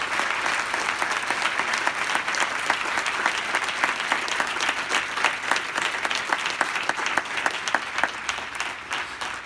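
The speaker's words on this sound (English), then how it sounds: "y'all give these people a round of applause" A large audience at a back-to-school pep event applauds school staff with sustained, loud, steady clapping throughout.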